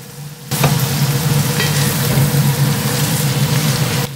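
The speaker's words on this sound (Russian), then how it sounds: "Обжариваем капусту и добавляем яйца." Cabbage frying in a pan with eggs added, a loud close sizzle that starts abruptly and holds steady with light stirring crackle, then cuts off, with no talk.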